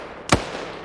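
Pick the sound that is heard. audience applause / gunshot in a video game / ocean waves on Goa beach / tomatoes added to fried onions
gunshot in a video game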